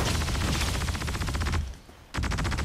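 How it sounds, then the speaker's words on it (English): Rapid automatic gunfire aimed at a ship in Star Citizen, a loud steady stream of shots that breaks off briefly and then resumes. "Oh, he's getting shot at."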